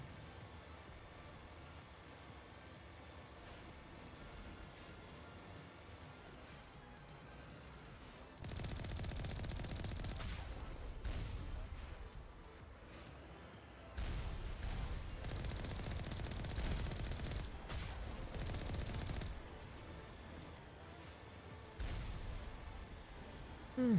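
Gunfire from the Mass Effect video game arrives in sustained bursts of rapid shooting, broken by short lulls, fairly quiet overall with no talking.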